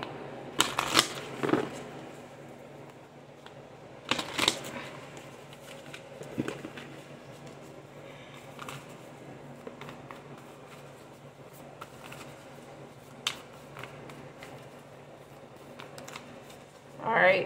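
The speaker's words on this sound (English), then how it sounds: "normally when you shuffle cards, they be flipping out everywhere" Several crisp, riffling bursts of playing cards being shuffled, close by, separated by quieter stretches with faint background murmur.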